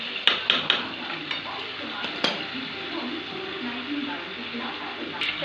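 Meat being stirred and fried with spices and a splash of water in a pan, a steady sizzle under scraping spoon strokes and sharp clinks against the metal, with a few louder knocks near the start.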